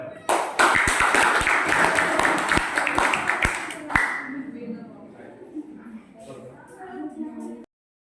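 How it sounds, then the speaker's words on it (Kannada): A classroom group claps for the third-place team after a tenth-standard maths quiz, a burst of sharp, close claps that thins into scattered taps and fades under murmuring voices. "ಅವರು ಕೂಡ ಭಾಗವಹಿಸೋದಕ್ಕೆ ಚಪ್ಪಾಳೆ."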